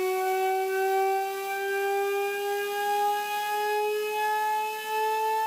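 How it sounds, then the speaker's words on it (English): A Cagniard de la Tour siren sounds one sustained, loud, clear tone with rich harmonics, pitch creeping slightly upward as it holds steady, alone with no voices. "Here's an example of what Cagnier de la Tour siren sounded like."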